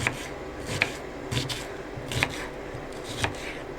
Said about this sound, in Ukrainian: цибулю також нарізаю